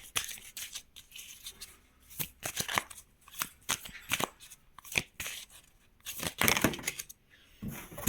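Oracle cards shuffled by hand, a run of crisp riffling bursts and flicks that come in uneven clusters over several seconds, close and fairly quiet with no talking.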